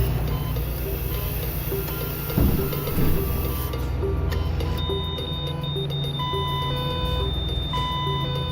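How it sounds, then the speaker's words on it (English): A medical alarm beeps with steady, thin electronic tones that repeat through the second half over a constant low rumble. The beeping is moderately faint and no one speaks. "his medical alarm spoke for him"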